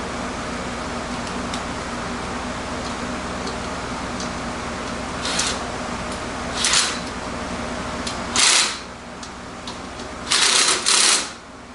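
Short ratcheting bursts from tightening bolts while installing a MotorHead Products Tow & Mow hitch, coming in a few quick spurts that grow longer toward the end over a steady background hum.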